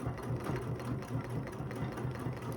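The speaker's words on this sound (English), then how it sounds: "I'm going to now stitch right back up the line that I just had" A longarm quilting machine stitches a geometric line across a quilt block, giving a steady, fast mechanical hum with a soft rhythmic needle pulse, quiet and unbroken, with no voices.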